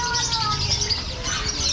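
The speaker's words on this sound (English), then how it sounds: "An unusual hobby over here is singing birds" Caged songbirds in Bali, kept for singing competitions, chirp and trill continuously in a busy overlapping chorus, fairly close and loud, with no voices.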